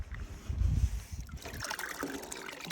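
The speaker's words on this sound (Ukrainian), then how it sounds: "Ще й дощ, дощ капає." Rain drips steadily outdoors onto an uncovered seed dryer on a farm. Soft, irregular trickling drips are heard close by, with a brief low rumble near the start.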